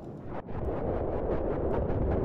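Heavy booming blasts from a tank firing in the multiplayer war video game Battlefield 1942 Caspian Border map, a sustained rumbling roar with a brief dip before continuing loud and dense.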